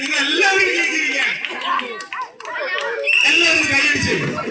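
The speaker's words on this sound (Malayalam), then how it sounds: "എല്ലാവരും കൈയടിച്ച്" A children's audience claps for the final-round winners, a dense burst of applause mixed with excited kids' shouts and chatter throughout.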